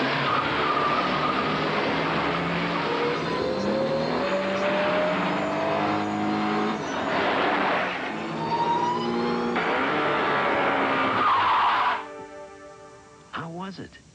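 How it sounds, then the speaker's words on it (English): A Colt GT with a 16-valve fuel-injected turbo engine drives hard, its engine note rising and falling loudly through repeated revving and shifts, with tire noise before it cuts off near the end. "This is the totally redesigned Colt GT with a new 16-valve fuel-injected turbo power plant"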